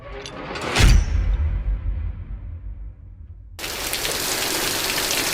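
A heavy Georgia rain storm pours down outdoors as a loud, dense, continuous hiss of falling rain, opening with a strong gust-like surge before settling into a steady downpour.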